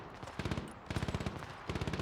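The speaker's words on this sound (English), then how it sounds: "Roger, attacking the enemy. If shooting doesn't work, shoot harder." Rapid bursts of automatic gunfire from the video game Broken Arrow, three clusters of sharp repeated shots with brief pauses between them, loud and close with no talking.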